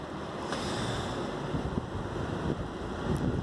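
A thunderstorm in Ingolstadt with hail, gusting wind and heavy rain gives a steady, dense roar of rain and wind buffeting close to the microphone, with no talk.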